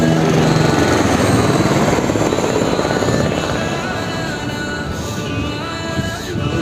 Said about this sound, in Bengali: শুধু হেলিকপ্টার উড়ে যাচ্ছে।